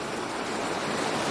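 River water pours over the Putim waterfall in São José dos Campos, Brazil, a constant close rushing roar that stays even throughout with no voices.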